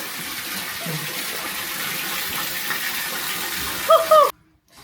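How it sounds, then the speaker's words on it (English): Toilet cistern filling nonstop with no stop ball to shut off the flow, a steady hissing rush of water that holds for about four seconds, with brief faint chirps near the end before it cuts out. "the toilet won't stop filling because there's no stop ball to tell the toilet that it's full"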